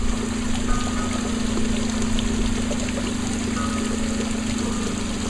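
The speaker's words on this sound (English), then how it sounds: "All 6 holes are pouring out water." While a potted plant is being watered, water pours steadily out of all six drainage holes, making a continuous close trickling rush with a faint low hum beneath it.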